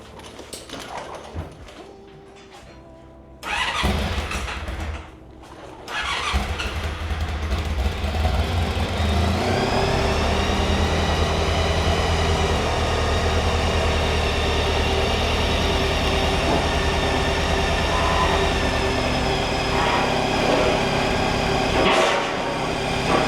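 MV Agusta 750 Sport America motorcycle engine starting up in a workshop and settling into a loud, steady idle with a rich exhaust note that runs continuously after a few brief bursts.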